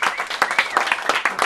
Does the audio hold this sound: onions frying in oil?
no